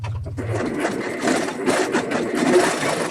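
Sewing machine running steadily as it stitches a seam across a backpack prototype, with a backstitch pass at the end; a continuous close, busy mechanical whir for the whole stretch.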